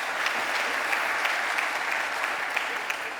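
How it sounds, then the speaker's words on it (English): An audience at a cyberspace conference plenary applauds a panel, a dense, steady round of clapping heard on its own, moderately loud and continuous throughout. "Can we give a nice round of applause for the excellent panel that's been assembled today"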